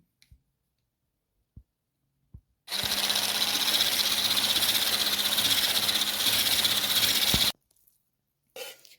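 An electric mixer slowly beats cake batter with baking powder for a cottage cheese pie, giving one steady, even whirring drone of about five seconds between faint clicks of handling.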